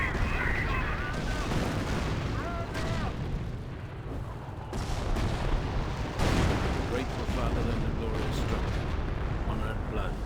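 Dense, continuous artillery shelling from a creeping barrage in the real-time strategy game Company of Heroes, a steady loud rumble of overlapping booms and blasts throughout, with a commentator talking over it.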